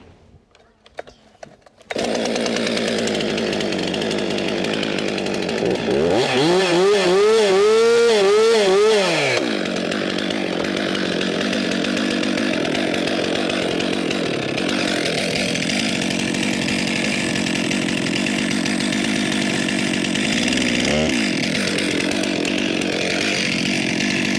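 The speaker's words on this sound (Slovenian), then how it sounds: "Meni najljubše je vžiganje motorne žage" Chainsaw being started: a rising pull-start burst, then the engine catches and runs loud and steady, close by, for the rest of the clip.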